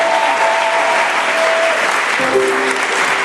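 A church congregation at a mission gathering claps loudly and steadily, with some voices rising through the dense, continuous applause.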